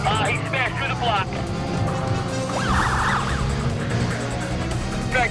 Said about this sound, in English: He smashed through the block.